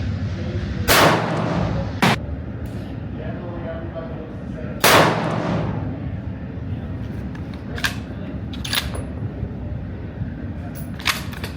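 A Springfield 2020 Waypoint rifle fitted with a muzzle brake fires sharp, loud single shots outdoors, spaced several seconds apart, against steady background noise and a few fainter clicks.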